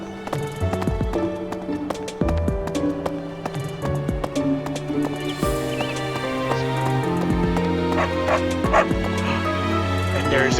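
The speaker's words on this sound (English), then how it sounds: "And there's a dog." A dog barks in short bursts and whimpers, heard repeatedly over a steady layered tonal background with no clear talk.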